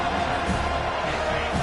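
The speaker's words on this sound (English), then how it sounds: "The roar of the crowd trying to fuel this defense to keep them pinned in their own end." A stadium crowd at an Ohio State versus Florida State college football game roars steadily and densely throughout, a loud unbroken wall of cheering voices.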